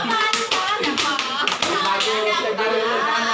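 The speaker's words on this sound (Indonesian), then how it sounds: "Kasih tepuk tangan Hairul Anam" A class of young primary pupils claps for a classmate during a lesson, a dense, steady patter of many small hands close by, with children's voices mixed in throughout.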